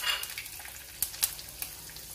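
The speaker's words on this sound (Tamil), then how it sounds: "கடுகு நல்லா வெடிக்குது." Mustard seeds splutter in hot oil in a home kitchen, giving a steady sizzle punctuated by a few sharp pops and crackles.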